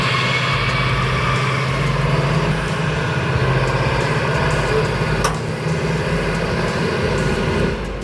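A large mining haul truck's engine keeps running, a steady loud low drone with a constant hum from start to finish, one brief sharp click near the middle, and no talk.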